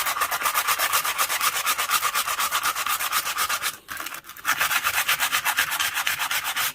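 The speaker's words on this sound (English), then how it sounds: "Okay, I've now finished with the finer sandpaper" Sandpaper rubbing scratches out of an alloy wheel makes a close, fast, steady scrubbing rasp that pauses briefly midway and then resumes. No voices are heard.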